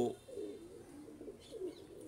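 Pigeons, including Teddy-type birds, coo softly and faintly in low, rolling calls with a few brief chirps, set against quiet background noise.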